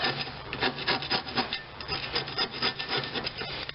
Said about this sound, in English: I have a cabinet screwdriver here. Helps get some of the majority of stuff off here.